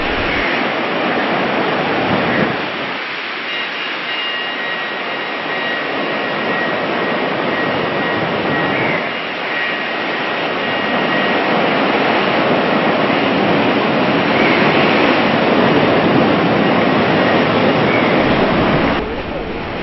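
Surf at Aazhimala beach rolls in as a steady, loud, broadband wash of sea waves, continuous across the whole stretch with slight swells in intensity and a faint tonal hum running above it.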